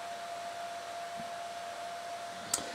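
An RFSoC board powers up with its cooling fan spinning, producing a steady, airy whir with a faint tonal hum throughout and a brief click near the end.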